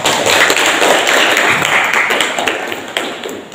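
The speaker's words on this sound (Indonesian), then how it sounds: "Tepuk tangan untuk semua" Classroom applause at the close of a group's presentation on procedure texts: dense, steady clapping from many hands, loud and close, lasting throughout and tapering slightly at the end.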